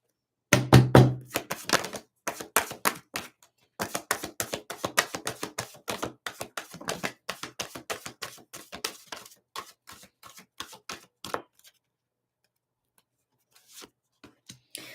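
Tarot cards handled and shuffled, giving dense runs of crisp papery taps and flicks that come in bursts with short pauses, loud and close, then thinning out to a few isolated clicks near the end.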